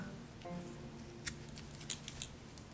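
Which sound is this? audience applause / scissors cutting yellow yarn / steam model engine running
scissors cutting yellow yarn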